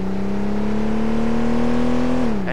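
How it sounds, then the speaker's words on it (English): A game car engine revs at a steady, sustained pitch, a loud, even droning tone that holds then dips slightly at the end, alone without talk; the sound is a looping engine note for a Porsche in a racing game. "just make sure you get a consistent engine sound like this"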